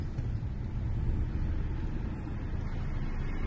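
A remapped Chevrolet TrailBlazer engine growls under acceleration, a steady deep rumble heard close and continuous without a clear rise or drop.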